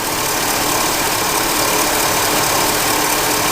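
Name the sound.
car engine starting to run rough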